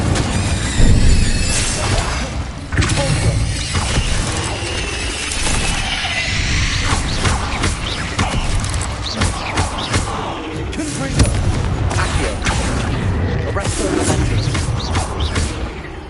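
Confringo and Incendio spells blast repeatedly during a Hogwarts Legacy battle, dense thumps, crashes and fiery bursts piled into a loud, continuous chaotic din.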